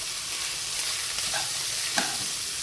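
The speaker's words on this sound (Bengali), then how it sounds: "মশলাটা ভালো করে কষানো হয়ে যাচ্ছে, টমেটোগুলো গলে এসছে।" A spice paste with melting tomatoes and salt sautés in a pan, giving a brief, even sizzling hiss close up, with a couple of soft stirring scrapes and a small clink near the end.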